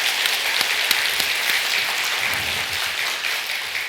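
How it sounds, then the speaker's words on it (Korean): A church congregation applauds during an Easter Sunday worship service at a Korean church, with full, sustained clapping that fills the sanctuary and no speech over it. "부활하신 주님께 영광의 박수를 올려드리겠습니다."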